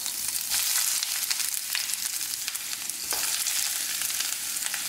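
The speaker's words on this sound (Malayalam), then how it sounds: "ഞാനിനി ഇതിലേക്ക് സവാള മുറിച്ചത് ചേർത്ത് കൊടുക്കുകയാണ്" Chopped onions dropped into hot coconut oil fry with a loud, dense, continuous sizzle, broken by occasional stirring scrapes close up.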